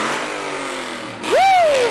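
A Ford F-250 pickup truck engine fires up at a parade and revs with a rising then steady whine, loud and close, following a stretch of broadband noise and talk.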